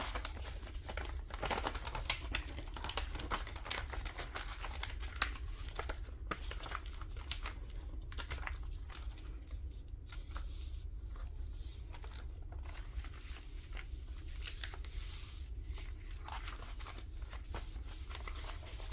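Paper is handled and pressed into folds while building the base of a flipflop journal, producing a steady, close crinkling and rustling that runs throughout with no talk.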